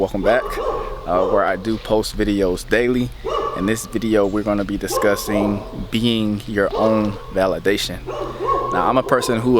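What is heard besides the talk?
dogs barking in the background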